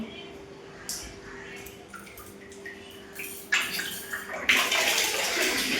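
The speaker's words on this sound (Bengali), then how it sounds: "কলটা চালু করে দিলাম" Water runs from a household tap in a bathroom, starting softly with a few splashes and knocks, then swelling into a steady, close gush that continues to the end.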